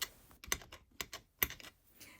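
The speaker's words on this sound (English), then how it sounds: "I'm going to grab my knife and chop them all up into small pieces." A knife chops scrap polymer clay into small pieces on a hard surface, making a handful of faint, sharp, irregular taps with no talking.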